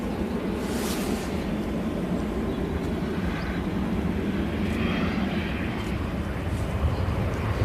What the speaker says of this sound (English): So Ryanair coming from Madrid.